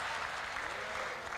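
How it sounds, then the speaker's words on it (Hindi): Audience applauding at a Hindi comedy or kavi stage show, steady dense clapping filling the whole moment with no pauses. "अब ताली तो बजा दी"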